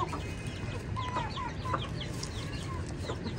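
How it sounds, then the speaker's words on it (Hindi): Hens clucking in short, scattered calls over a steady background hum, a busy flock heard fairly close with no talking. "दोस्तों सुबह से बहुत भूखे हैं हमारे मुर्गियाँ"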